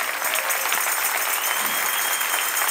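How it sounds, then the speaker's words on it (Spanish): A church congregation claps steadily for a few seconds, a loud, dense wash of applause from many hands with no voice rising above it. "démosle otro fuerte aplauso al Señor"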